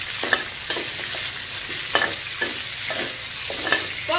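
Steady sizzling of pork ribs stir-frying in a hot pan, with irregular scraping and stirring strokes of a utensil against the metal, close and fairly loud.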